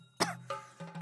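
A person coughs a few times in quick succession indoors, a sharp first cough followed by two weaker ones, close and clear.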